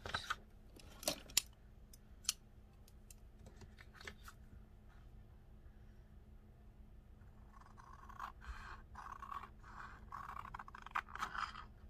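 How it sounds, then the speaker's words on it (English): Scissors cutting out pattern tissue paper, soft close scraping snips and rustles, a few sharp clicks early and then a steadier run of quiet cuts, with no talking. "Now I'm going to cut it out."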